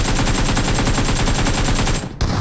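Rapid gunfire in the mobile battle royale game BGMI, a loud, steady automatic burst with evenly spaced shots for about two seconds, then a brief gap and one more shot.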